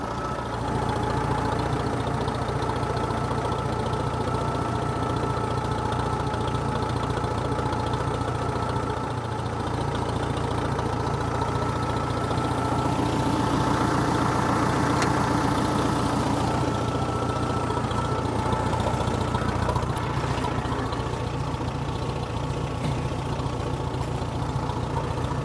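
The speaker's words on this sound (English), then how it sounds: "I have to push on that with a tractor." A tractor engine idles steadily for the whole stretch, a low, continuous rumble that swells slightly midway, with no talking.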